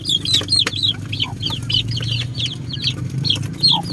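Chicks of a black Jolohano hen peep in quick, repeated high chirps close by, over a low rumbling farmyard background.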